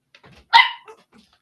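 A puppy gives one close, sharp bark, with faint small yips and whimpers just before and after it.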